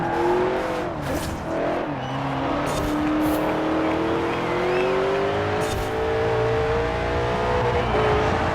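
A racing car in the video game Forza Horizon 4 revs and accelerates loudly, its engine pitch sweeping up and down through gear changes, with faint tire squeal and no talking.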